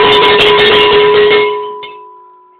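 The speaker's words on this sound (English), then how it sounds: "Okay, this is the back of the cowbell." An antique 1916 lead cow bell rung hard, a loud bright clanging with strong sustained overtones that stops abruptly and leaves a long, steady ringing tone fading out alone.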